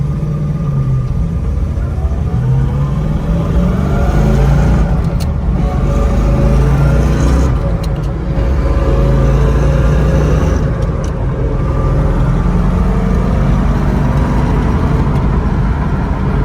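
A 1963 Corvette split-window coupe with a C2 5-speed manual drives on the highway. Its engine and road noise make a loud, steady rumble throughout, with brief wind buffeting and no talking.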